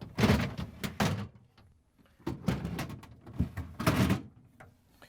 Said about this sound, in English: line them up on the rails and slide them back in